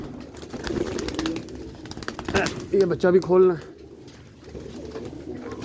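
Rooftop flying pigeons cooing, a few soft throaty coos rising together near the middle, with someone talking over the scene and faint wing rustles around.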